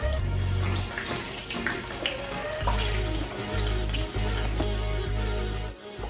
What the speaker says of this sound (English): Now I'm gonna put chicken broth inside of it.